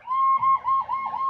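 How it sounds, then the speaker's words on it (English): A two-tone emergency siren wails steadily past in the Jurassic World Evolution 2 park-building video game. Its rising and falling whoop repeats for just over a second, loud and clear, with no talk over it. "you're gonna hear sirens go by"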